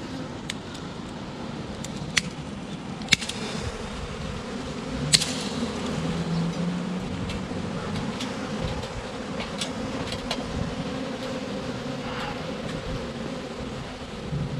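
Swarm of honeybees clustered on a tree branch, a continuous low droning hum with faint buzzing flybys and a few sharp knocks, steady and moderately close throughout.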